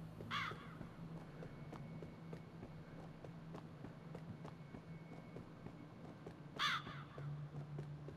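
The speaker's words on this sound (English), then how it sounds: "I can hear the crow." Crows caw in the video game JOTUN, two harsh calls, one at the start and one near the end, over a low droning ambience and a steady run of soft footsteps.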